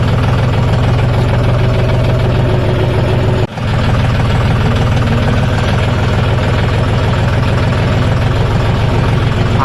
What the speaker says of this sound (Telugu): ట్రాక్టర్ మాత్రం సౌండ్ నెక్స్ట్ లెవెల్ ఉన్నది మామ